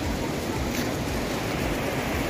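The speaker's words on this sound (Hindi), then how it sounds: "ये देखिए झरना।" Rushing water from a waterfall near the Leela Dhungi temple on the way to Badrinath in the Himalayas, a steady broadband roar that holds evenly throughout, close and loud with no talk over it.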